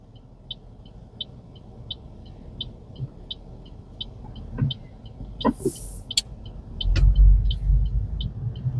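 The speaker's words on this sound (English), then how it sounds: "I'm gonna make a left turn, and I got all these cars coming" Cars on a Honolulu residential road, heard from inside a rideshare car waiting to turn left: a steady low road rumble, one vehicle swelling louder and closer near the end, with a faint regular ticking, likely a turn signal, throughout.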